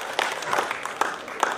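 Audience applause at a live magic show after a rope trick: a burst of scattered clapping from a small crowd, moderately loud and fairly steady for under two seconds, with a few sharper claps standing out.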